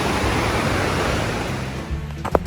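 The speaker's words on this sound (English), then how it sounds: "right on the river, nice white noise" A river rushes right beside a trail shelter in the White Rocks National Recreation Area on the Appalachian Trail, a steady loud broadband roar of flowing water with a brief knock near the end.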